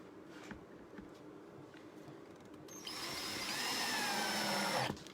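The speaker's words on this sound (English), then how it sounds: "Don't be afraid to use power tools." A power tool whirs into a steady, fairly loud run with a high whine, following a quieter stretch of background noise, then cuts off abruptly.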